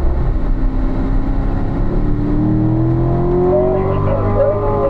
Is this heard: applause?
no